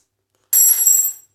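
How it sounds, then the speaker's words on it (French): A short, close metallic jingle of keys, a bright rattle lasting under a second and then fading out. "Ah, désolé pour le bruit, c'est ma clé."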